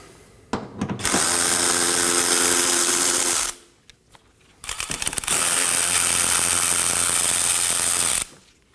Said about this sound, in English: Now I'm going to remove one 10mm bolt and one 8mm bolt as well.